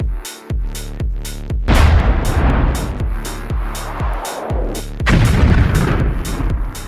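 Giant artillery cannon in Minecraft fires shells in a rapid, regular series of loud booming blasts, each with a rumbling tail, repeating about every half second with no talking.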